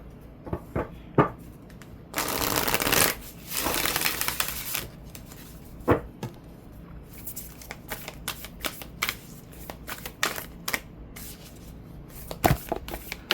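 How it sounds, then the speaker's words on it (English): Tarot cards being shuffled by hand, with two longer riffling bursts and many scattered taps and knocks between them, close and fairly loud. "I'm trying to get a good shuffle, and I'm doing a very bad job of it."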